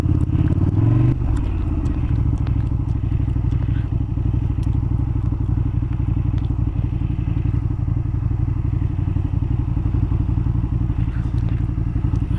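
A vehicle drives down a narrow road, its engine a loud steady drone throughout with a few thumps and rattles near the start.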